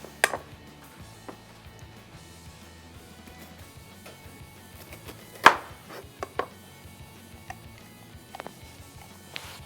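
Knife chopping red and green peppers into bigger chunks on a cutting board, irregular sharp taps with one louder chop midway, close up over a quiet room with no talking.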